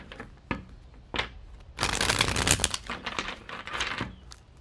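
Tarot cards being shuffled by hand in a crisp, papery burst of riffling and flicking, with a couple of sharp taps before it and softer card handling trailing after.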